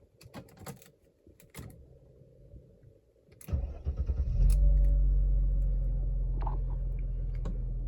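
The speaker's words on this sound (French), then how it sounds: "pourquoi ne pas démarrer la voiture?" A 1997 Mercedes C280 six-cylinder petrol engine cranks and catches after some quiet cabin clicks and rustles, then settles into a steady, loud, low idle rumble.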